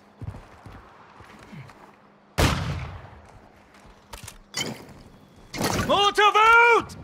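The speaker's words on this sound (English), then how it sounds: "I'm taking fire!" Gunfire and combat effects in a battle royale video game: a sharp loud burst followed by a few scattered shots and impacts, with a voice talking over the action near the end.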